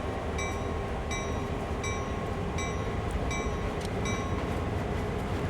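A GP38-2 diesel locomotive in Train Sim World 2, on the Sand Patch Grade route, rumbles steadily as it starts to move, with regular, evenly spaced metallic clicks over a constant engine drone.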